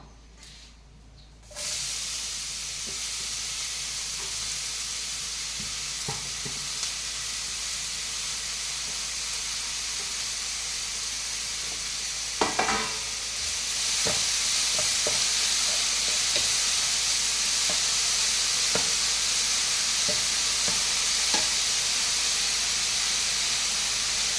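Banana stem stir-fried in a pan for a thoran with dried red chillies: a steady hiss and sizzle that jumps louder partway through, with scattered scraping stirs and light clatters, heard alone without talk.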